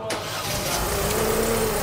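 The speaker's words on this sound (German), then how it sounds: "dann starten wir den Wagen und schauen mal" A Mazda car engine clogged with oil carbon cranks briefly, catches, and settles into a steady idle close by.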